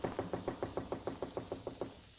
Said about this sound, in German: wer klopft denn schon wieder?